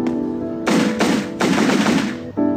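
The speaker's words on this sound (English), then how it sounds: "I like the gun, the shooting animation." Gunfire from the Android game Starfall Fantasy: Neverland, heard as loud rapid bursts of automatic shots broken by brief pauses, with a sustained tonal game sound before and between them.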